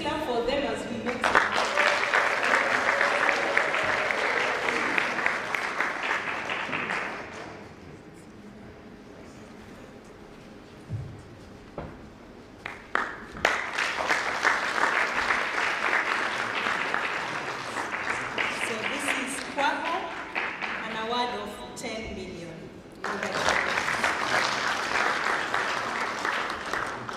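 Audience applause at a USAID Western Kenya sanitation hackathon, a loud, sustained crowd clapping that fades to quiet in the middle, then swells again in two further long rounds.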